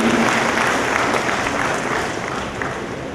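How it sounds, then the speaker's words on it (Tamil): Audience at a national integrity function in Chennai applauds award winners, a dense, loud burst of clapping that holds steady and then eases slightly toward the end. "வெற்றியாளர்களுக்கு உங்களுடைய கைத்தட்டல்களை அற்புதமாக கொடுக்கலாம்."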